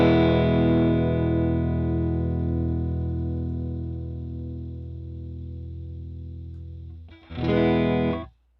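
An electric guitar played through a Line 6 Helix into a 1x12 Fullerton cabinet: one effects-laden, slightly distorted chord rings out and slowly fades, then a second short strum cuts in and stops.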